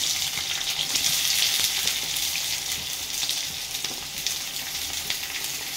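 Onions frying in hot oil for an egg curry, a dense, steady close-up sizzle with crackling spatter throughout and no talking.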